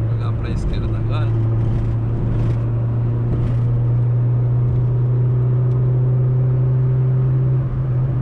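A Chevrolet Corsa Wind 1.0 drives down the Anchieta highway at a steady speed, its engine a constant loud hum and road rumble, with someone talking over it throughout.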